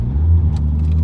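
A Toyota Supra engine catching and settling into a steady, loud, deep rumble close by, with no voices over it.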